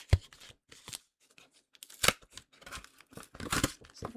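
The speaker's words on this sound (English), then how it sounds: "Am I going to have to get the scissors out?" Scissors snipping and tearing at a Pokemon card pack: a few sharp, close cuts and rustling bursts separated by short pauses, with no one talking.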